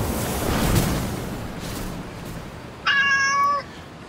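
A single cat meows once, a short clear tonal cry near the end, rising above a low rumbling background.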